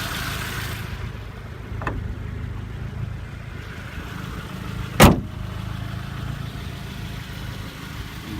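A 1988 Honda Civic wagon idles with a steady low engine hum, close by, with a short sharp knock or door-like thud partway through.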